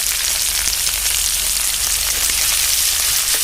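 Onion frying in hot oil with clove, cinnamon and fennel, a steady close hiss and crackle of sizzling that holds evenly throughout, with no talk.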